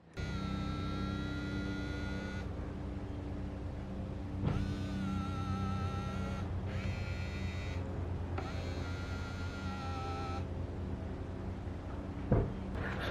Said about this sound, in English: let me run around to the inside of the car and we will test out the mirror movement